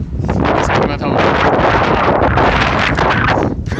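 Strong south wind buffets the microphone while riding a bicycle on a 70 km road trip, a loud, continuous roaring rush with gusty swells that fills the whole clip and drops briefly near the end.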